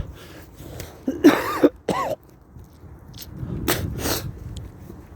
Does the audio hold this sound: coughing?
yes